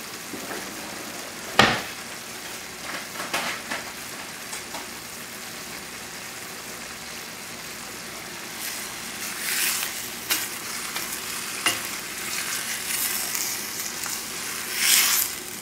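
Boneless chicken thighs and vegetables sautéing in a pan with white wine, giving a continuous soft sizzle with occasional sharp clinks and utensil scrapes against the pan, moderately close and free of speech.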